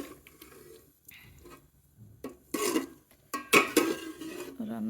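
Food being reheated in pots for a sehri meal, with a few close metallic clanks and scrapes of cookware and utensils between quieter stretches of kitchen noise.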